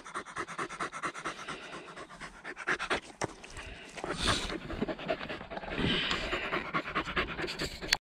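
A springer spaniel pants rapidly and rhythmically close by, quick breathy huffs continuing steadily throughout, with a bit of movement and faint background noise.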